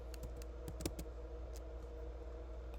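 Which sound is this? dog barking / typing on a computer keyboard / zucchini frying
typing on a computer keyboard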